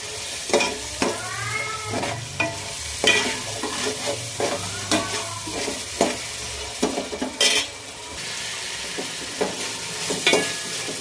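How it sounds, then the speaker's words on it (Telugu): Boiled green peas go into a sizzling pot for pulao and are stirred with scraping, clattering spoon strokes over a steady frying hiss, close and fairly loud, with no talking. "ముందుగా ఉడకబెట్టేసుకున్న బటానీ కూడా దీంట్లో వేసేస్తున్నాం"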